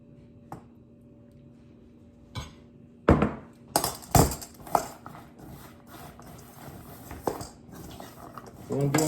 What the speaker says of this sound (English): So what I'm doing now is mixing them. The caramel and the chocolate with the pecans.